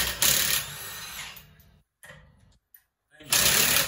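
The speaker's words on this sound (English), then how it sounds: "All right, lugs are coming off." Lug nuts come off a 2013 Honda Odyssey wheel with a power tool during a home brake job: close, loud whirring bursts at the start and end with a short rattle between, and a voice speaks briefly.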